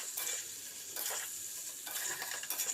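Cabbage frying with garam masala while being stirred in a pan: soft, quiet sizzle with three or four brushing scrapes of a spatula at roughly one-second intervals, close but low in level.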